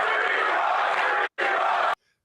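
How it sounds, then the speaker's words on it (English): Supporters of Ross Ulbricht cheer as a dense, loud crowd roar that cuts off briefly, resumes, then ends abruptly in silence. "So that's them cheering for him and everything"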